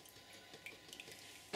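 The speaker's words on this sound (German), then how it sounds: "Ein Wasserpott braucht ihr natürlich auch zum Auswaschen des Pinsels." Water trickles and splashes steadily in a pot as a paintbrush is rinsed out during acrylic pouring, a soft close continuous wash with a brief louder splash at the end.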